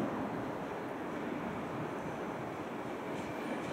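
A train set is shunted onto track 2 at Budapest Nyugati station: a continuous low rumble of slowly rolling rail cars under station ambience, steady and moderately loud throughout, with no talking.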